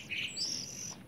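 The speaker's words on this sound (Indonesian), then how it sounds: "Ini di sini tuh burung srengenging atau burung matahari ya." Sunbird, locally called srengenging, giving bright high chirps and a thin sustained whistle, close and clear over soft background noise.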